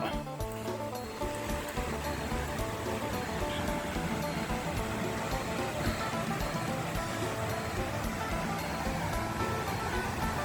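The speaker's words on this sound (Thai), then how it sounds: "ก็มาถึงน้ำตกหมอกแปงแล้ว" Mo Paeng waterfall in Pai, Thailand, as a steady broadband rush of falling water that fills the scene without a break, with a little faint background noise.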